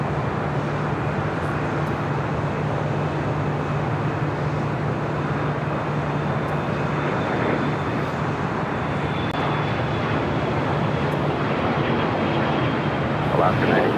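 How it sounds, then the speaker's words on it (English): An Asiana Cargo jet takes off from the south side runway at LAX, a steady powerful engine roar that holds for the whole stretch, loud and sustained, with faint traffic in the background. "Next takeoff here on the south side is Asiana Cargo, the Queen, heading to SFO."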